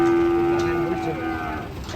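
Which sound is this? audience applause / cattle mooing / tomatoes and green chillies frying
cattle mooing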